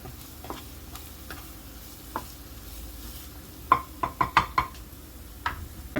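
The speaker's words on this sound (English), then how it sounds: "And saute some more until it's cooked." Millet lugaw ingredients with ginger are sautéed in a pan: a faint sizzle runs underneath, broken by scattered spoon knocks and scrapes against the pan, with a quick cluster of sharper taps near the middle.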